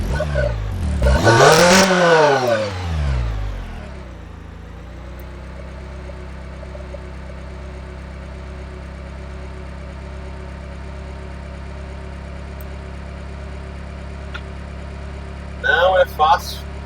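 A car engine running steadily during a diagnostic test, a constant low hum that settles into an even idle after a louder, shifting opening stretch, with faint clicks near the end.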